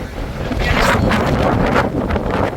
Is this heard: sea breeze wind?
yes